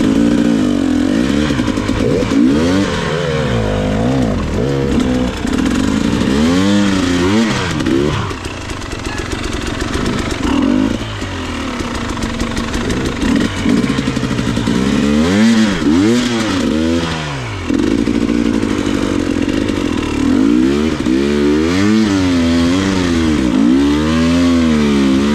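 Motorcycle engine ridden off-road in Wales, a close, steady drone with repeated revving swells and drops as the throttle opens and closes, continuing loud throughout with no talk.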